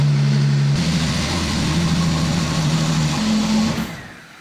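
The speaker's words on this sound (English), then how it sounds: "let's get this car moved forward" A Mercedes-Benz C450 AMG engine runs steadily at low revs as the car creeps forward, a close, even hum with a slight change in pitch before it cuts off at the end.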